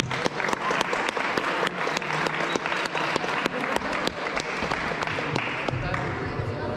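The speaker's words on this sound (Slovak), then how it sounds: "Veľký potlesk, fakt." A crowd applauds the medic at a 2024 amateur football tournament in Košice: sustained, dense clapping with sharp individual claps standing out, close and steady, with a voice talking faintly underneath.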